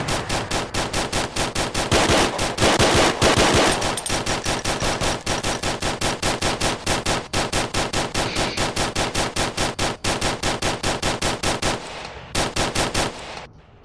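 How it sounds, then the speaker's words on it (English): Sustained automatic gunfire in the VR shooter Onward, loud and close, with rapid bursts repeating almost continuously before a brief lull and a final few rounds. "I actually shot someone with the sniper rifle."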